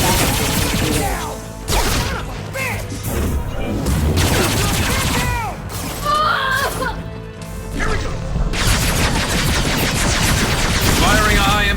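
Gunfire in the video game Mass Effect 2: dense, loud bursts of shots and impacts throughout, with crashes and combat noise and occasional voices in between.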